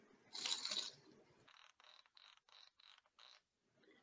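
A percussion instrument gives one rough scrape, then a quick ratcheting series of about six short, evenly spaced scratches, close and fairly quiet, with no talking.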